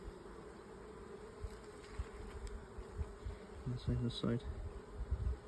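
Buckfast honeybees buzz steadily on the comb as new bees emerge, a close, continuous hum with a few louder passes near the end, under quiet speech.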